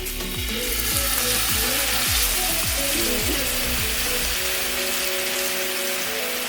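A fish fillet fries in a pan with a dense, loud, continuous sizzle and crackle, close up, with a few brief scraping knocks early on and no talking.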